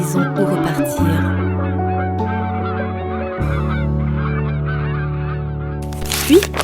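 Geese taking flight, a burst of loud, repeated honking calls overlapping from several birds, close and continuous, alone without voices.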